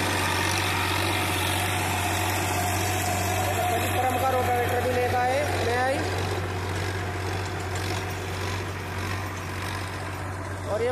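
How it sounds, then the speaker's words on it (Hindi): A new Massey Ferguson 8055 tractor runs steadily on a farm field, its engine giving a constant low drone with a deep hum, close and loud for the whole stretch, and a voice heard faintly under it. "मेरे बड़ी ट्रैक्टर की साउंड चेक कर लो, इस तरीके में साउंड आ रही"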